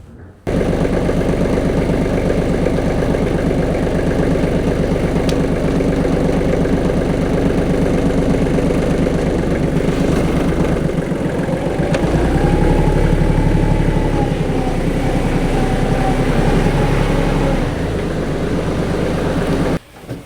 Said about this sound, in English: This is a 28 horsepower tractor with a 3-cylinder diesel engine from Kubota